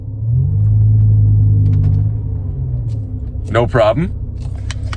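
A BMW M5 E60 pulling away in normal first gear, a deep loud engine rumble that swells then eases off, with someone speaking briefly near the end.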